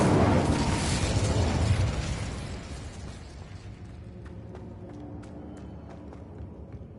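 An Incendio fire spell cast in Hogwarts Legacy sets off a loud roaring whoosh of flame that fades into lingering crackle and scattered mechanical ticks, with no voice over it.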